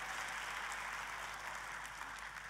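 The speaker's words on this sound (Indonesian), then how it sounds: "Ayo tepuk tangannya yang paling meriah buat Tuhan kita" A church congregation applauds for God in a continuous wash of clapping that stays fairly soft and even, heard alone without talk.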